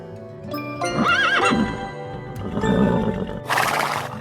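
A horse at a riding stable whinnies loudly and nearby, with shaky neighing calls over rustling and hoof noise and a burst of broadband noise near the end, no talking.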